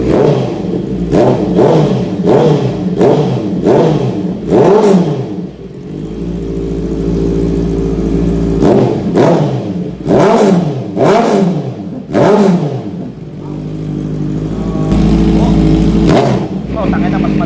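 Car fitted with a cat-delete aftermarket exhaust and a 650cc engine, revved in a series of sharp, loud blips that rise and fall rhythmically, with steady idle rumble between bursts and people talking over it.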